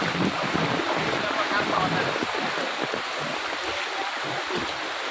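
Water washes and churns steadily around a boat moving through floodwater in Mangaluru, with constant broadband rushing and a low rumble; faint voices come through underneath.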